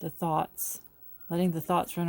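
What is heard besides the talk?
No everyday noise stands out behind the speech.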